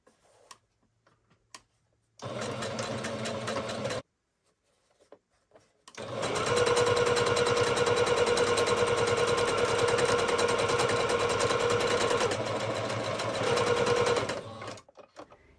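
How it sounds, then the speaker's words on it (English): A sewing machine runs a zigzag stitch along the stretchy long edge of a fabric headband tube, with a short burst of stitching, a pause, then a longer steady whirring run close by. "I'm going to use a zigzag stitch to help with the stretchiness"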